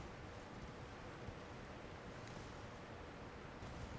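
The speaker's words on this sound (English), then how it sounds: "a lot of waterfalls." Steady, dense rushing of waterfalls in the video game Elden Ring, a continuous wash of falling water that holds an even level throughout, with no voices over it.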